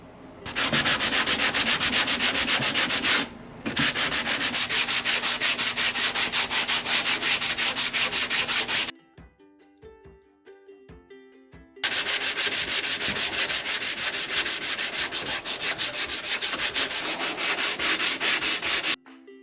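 The body of a 1987 Jeep Wrangler is sanded with 120 grit sandpaper, a loud, continuous rasping scrub that stops briefly, then drops into a longer quiet gap before resuming just as hard.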